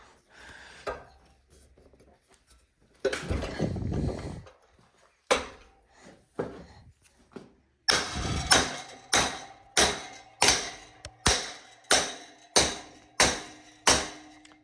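An Isuzu 4JJ1 EGR cooler part is struck to snap it off, with a few isolated knocks and a scraping patch followed by a steady series of about a dozen loud, evenly spaced hard metallic blows close by.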